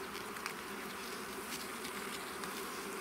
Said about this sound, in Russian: Пчелы много.